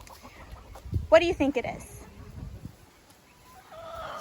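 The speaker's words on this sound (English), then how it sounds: "We have the golden chicken, the black chicken, or the black and white chicken right over here." Chickens on a farm, including golden, black and barred rock hens, with a few clucks and a short rising squawk heard near and moderately loud while a person speaks over them.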